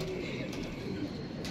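A pigeon coos softly and steadily at close range for a brief moment, with low murmuring voices in the background.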